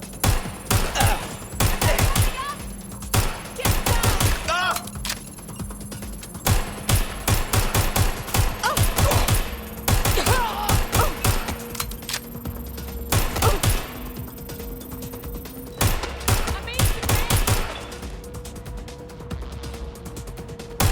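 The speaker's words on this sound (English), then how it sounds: "Shots fired! Taking cover. Taking fire!" Repeated bursts of gunfire in the Watch Dogs Legion video game, sharp cracks and rapid volleys spread throughout, loud and close, with steady background game sounds between shots.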